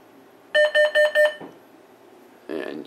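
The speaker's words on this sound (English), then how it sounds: "So this is basically simulating the carbon monoxide on the detector going off." A Simplex 4010ES carbon monoxide alarm sounds its code 4 pattern: four loud, evenly spaced electronic beeps, a pause, then another tone begins.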